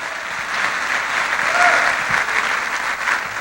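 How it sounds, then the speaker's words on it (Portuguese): A church congregation applauding at a worship service, a steady wash of clapping from a large crowd, sustained and moderately loud for a few seconds. "Salve de palmas para Jesus, amado."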